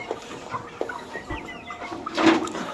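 Chickens cluck in a poultry farm, giving a series of close, short, irregular clucks and calls with a slightly louder burst near the end.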